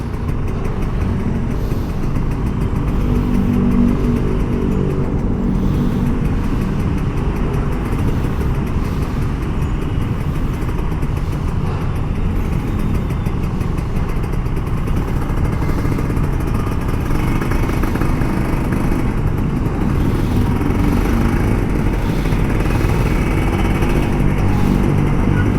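A Kawasaki Ninja RR 150 motorcycle crawling through a traffic jam on a road toward Ciledug, its two-stroke engine droning steadily close by amid surrounding traffic rumble throughout.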